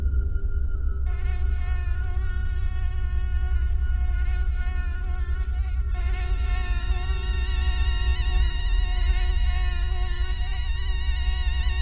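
A mosquito whines steadily and loudly close by at night in a rented room, a continuous high buzz that swells partway through and never stops, with no talking.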